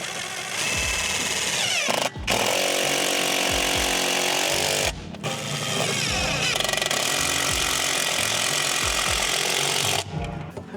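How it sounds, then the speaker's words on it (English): A power drill drives the last screws into a new shed awning, whining loudly and steadily in long runs broken by a few short pauses, close up and alone. "now to go put in the last 2 screws and we'll have an awning"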